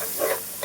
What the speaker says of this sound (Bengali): মশলা 2 প্যাকেট দিয়ে দেব। মশলাটা আবার ভেজে নেব।